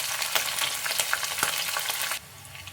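Bay leaf and slit green chillies frying in hot oil, a steady close sizzle with scattered crackles and pops, cutting off abruptly near the end.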